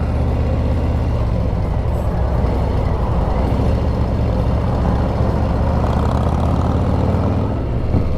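A motorcycle rides over a road of large, loose gravel, giving a loud, continuous engine drone and rumble thick with wind noise and crunching, steady throughout with no voices.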